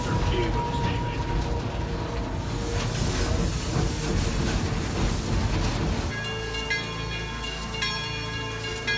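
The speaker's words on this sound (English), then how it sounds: "The chuff you hear is the steam" An autumn steam train locomotive hissing and chuffing close by, a loud continuous rush of steam with low rhythmic pulsing, shifting after six seconds to a steadier sound with ringing metallic tones.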